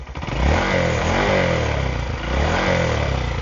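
A Honda Monkey 125 motorcycle with a TB Parts aftermarket exhaust idles nearby with a steady, fairly quiet exhaust burble, revving gently up and down a few times.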